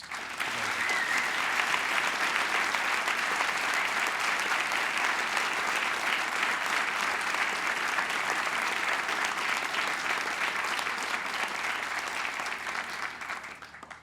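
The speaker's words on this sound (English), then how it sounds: "And please, one last round of applause for all of our debaters." Sustained, loud audience applause at the close of a formal debate, dense steady clapping from a full room that carries on for the whole stretch before tapering slightly at the end.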